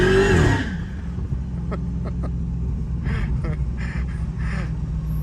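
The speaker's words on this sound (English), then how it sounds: "Tires just spin and spin and spin." An 850 WHP Dodge Hellcat accelerates hard in first gear at about half throttle, tires spinning, with a loud engine roar that settles into a steady drone and faint tire squeal bursts later on.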